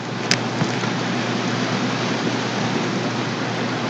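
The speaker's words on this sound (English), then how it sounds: "And it's nice and rainy outside." Rain falls steadily outside on a day in Louisiana, a dense even hiss without pause, fairly loud and near, with one brief knock early on and no speech.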